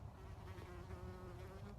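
A bee buzzes outdoors in nature, a faint, steady drone holding for about two seconds with no voices over it.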